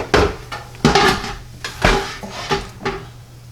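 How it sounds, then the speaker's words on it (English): Lid being taken off a NuWave countertop oven after baking a pie crust, with a series of sharp clattering knocks and clinks of metal and plastic, close and fairly loud, spread over a few seconds. "I'm just going to take that lid off, get it out the way"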